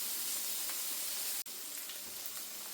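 Burger patties sizzling in a pan on a hob, a dense continuous hiss with a brief dropout partway through, steady and close.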